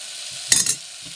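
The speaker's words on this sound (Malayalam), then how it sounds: "ഇനി നമുക്കിതിലേക്ക് ആവശ്യമുള്ള വെള്ളം ഒഴിച്ച് കൊടുക്കാം" Water poured into hot, sizzling potato masala curry sets off a short, loud hissing burst over a quiet background sizzle, lasting about a quarter second.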